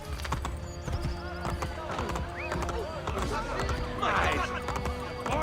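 Horse hooves gallop in Assassin's Creed Brotherhood, a rhythmic clip-clop that runs steadily under game sounds and voices.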